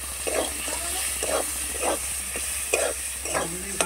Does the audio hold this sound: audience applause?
no